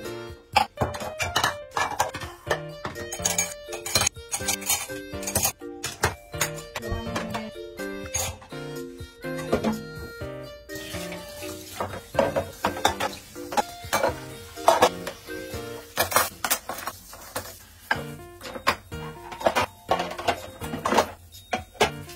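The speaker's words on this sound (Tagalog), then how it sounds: "maghuhugas naman ako ng aming mga pinggan" Dishes are washed by hand at a home kitchen sink, with irregular clinks, knocks and clatter of plates and cutlery plus running-water hiss, close and intermittent over about twenty seconds.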